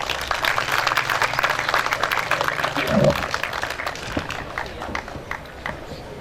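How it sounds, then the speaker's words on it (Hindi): Audience applause at a mushaira poetry gathering: steady dense clapping from a crowd that holds at an even level for several seconds, with a brief swell near the middle and some faint voices mixed in. "आपकी भरपूर तालियों में"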